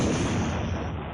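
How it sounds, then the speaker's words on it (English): A short explosion sound effect in a podcast sting rumbles loud and dense for about a second, a deep boom with a noisy crackling tail. "All of our stings have explosions in them."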